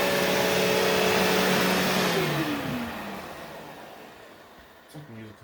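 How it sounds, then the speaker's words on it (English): An old vacuum cleaner motor whines loudly and steadily, then spins down with a falling pitch after about two seconds and fades into quiet hiss, with a faint knock or voice near the end. "Listen to that motor."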